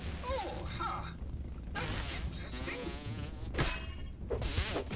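A mosquito in the survival video game Grounded buzzes in a thin, wavering drone that rises and fades, mixed with swooshing combat effects and in-game music.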